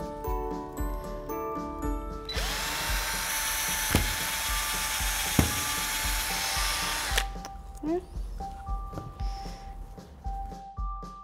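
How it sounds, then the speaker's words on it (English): A power drill whines steadily at close range for several seconds, drilling through wood, its motor note sliding up then holding, with tool clatter and handling noises around it. "So we're gonna drill through"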